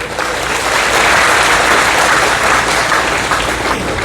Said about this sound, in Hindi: जब कोई अच्छी बात लगे तो ताली बजा दो